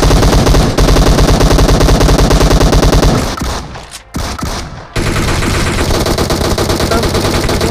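Heavy automatic gunfire from a PUBG tournament team fight rattles in dense, continuous bursts, briefly dropping away to quieter scattered shots midway before the loud rapid firing resumes.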